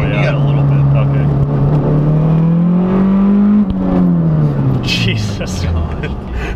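A Saab 9-5 with a 550 whp big-turbo engine drives and accelerates at about 3,500 rpm, its steady loud engine drone rising in pitch and then easing off, with people talking inside the car.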